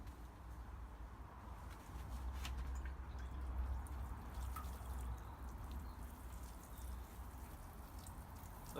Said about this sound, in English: give it a quick water.